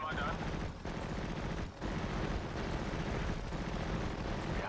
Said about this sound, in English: Go on, hit it with the machine gun.